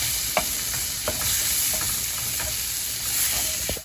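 Chicken mince frying with turmeric, cumin, chilli and coriander in a pan, a steady close sizzle broken by several sharp scrapes of stirring, with no voices.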